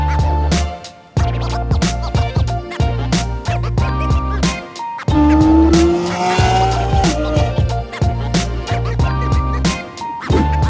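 A McLaren Senna engine revs hard, roaring loudly with rising and falling pitch, tire squeal and sharp bursts, close and aggressive.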